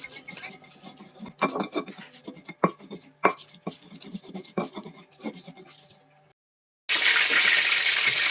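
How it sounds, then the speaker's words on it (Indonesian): Turmeric ground by hand in a stone ulekan mortar, a series of close, irregular grinding knocks and scrapes, then a brief silence before a loud steady hiss takes over. "aku tambahin kunyit dan diulek sampai halus"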